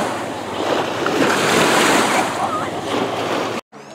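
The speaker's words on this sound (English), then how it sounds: "Look at the waves that he dug up." Waves from a passing boat's wake washing onto a Lake Michigan shore near Little Sable Point, a loud continuous surging rush with wind, ending abruptly.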